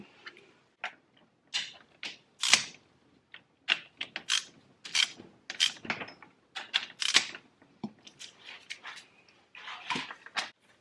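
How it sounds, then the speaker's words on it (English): Hand ratchet snugging the cylinder head bolts on a Yamaha Banshee during a top-end rebuild, heard as close, crisp ratcheting clicks in irregular bursts with short pauses between strokes and no talking. "So I'm gonna snug them all up just with the regular ratchet here"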